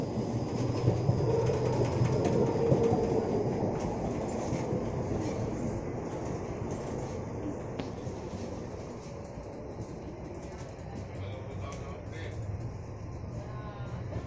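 A train rumbles steadily from inside a second AC coach on the Udaipur–Rishikesh express, a continuous loud roll with faint clickety-clack throughout.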